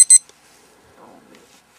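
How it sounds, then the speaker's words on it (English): A poker tournament dealer button with a built-in blinds timer powers on with two quick, sharp electronic beeps, followed by a faint, soft mechanical hum and near silence. "To begin our timer, you simply power it on by pressing the start pause button."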